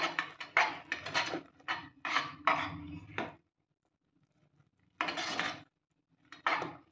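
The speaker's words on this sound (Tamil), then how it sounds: "நல்லா கிளறி கொடுத்துக்கிட்டே இருக்கணும்." A spoon scrapes and stirs thickening burfi mixture with cardamom powder in a pan over low heat, in several close scraping strokes with a pause midway.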